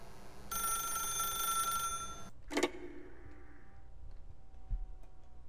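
A telephone rings in the video game The Stanley Parable, a steady electronic ring holding for about a second and a half before a sharp click cuts it off, followed by quieter room tone.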